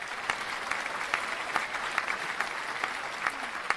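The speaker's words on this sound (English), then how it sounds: "So let me give you a round of applause." A small group claps for a few seconds during a morning talk stream, the individual claps standing out as sharp, fairly close hits over a soft, steady wash.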